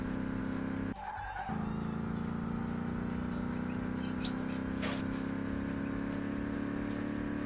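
A truck in the Turbo Racing 3D mobile game drives with a steady engine drone and a sustained tire skid, plus a brief louder burst near the start and bird-like chirps in the background.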